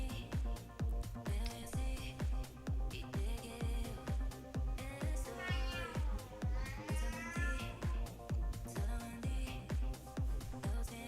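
A cat meows a few times, its drawn-out cries rising and falling over loud, steady, beat-driven music.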